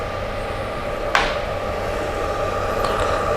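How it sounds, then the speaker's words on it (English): A Bluetti EB70 portable power station's cooling fan whirs steadily while the unit charges from AC power, a constant even hum with a brief click or knock partway through and no talk. "You can definitely hear the fan running."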